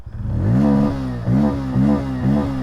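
A Bajaj Pulsar N160 motorcycle with an under-belly exhaust revs up close by, its engine rising in three or four sharp throttle blips with clattery mechanical noise between.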